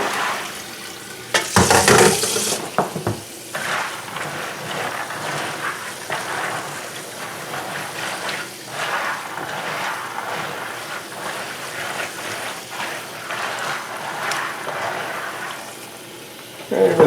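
Peas rinsed under running water into a colander, a steady close splashing rush that lasts throughout, with a brief louder gush near the start.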